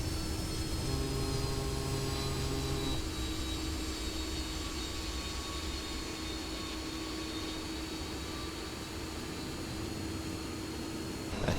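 Harrier GR.3 jet engine roaring steadily in a hovering flight combat game, a loud continuous whine with high tonal lines and broadband rush, alone without talk.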